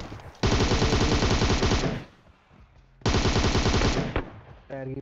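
Tommy gun firing in PUBG Mobile, two loud sustained bursts of rapid automatic fire separated by a short pause, close and dominant.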